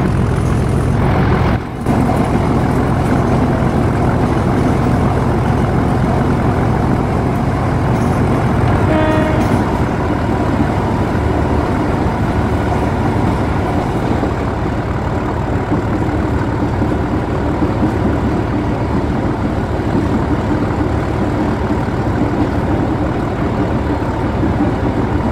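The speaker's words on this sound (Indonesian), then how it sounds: "Tuh, ada kereta api CC300-nya dua ya." A train hauled by two CC300 diesel locomotives throbs loudly and steadily nearby, engines rumbling and idling with a brief horn-like tone partway through, continuous and without talk.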